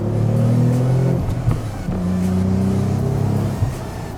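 A Nissan 300ZX twin turbo pulls hard from a standstill on a wet road, its engine note rising steadily through two gear changes with brief dips between them, loud and close throughout.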